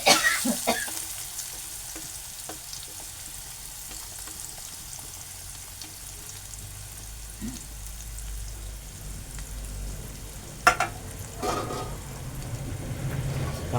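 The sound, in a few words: onion and curry leaves sautéing in pan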